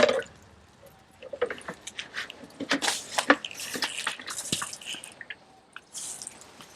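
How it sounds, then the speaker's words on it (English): Water from a bucket is dumped out for chickens, giving a scattered run of splashes, drips and wet squishes that come close and fairly quiet, in irregular bursts with short pauses between. "So all I'm gonna do is dump me my bucket in there"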